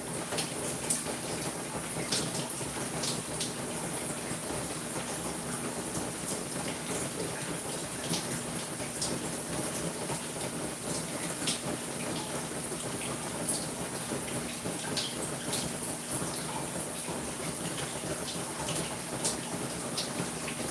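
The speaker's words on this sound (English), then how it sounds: "Enjoying their 92-degree filtered water rain shower, the very first one ever." A filtered-water rain shower sprays steadily inside an animal enclosure, with a constant hiss and scattered droplet patter filling the scene at moderate, even volume throughout.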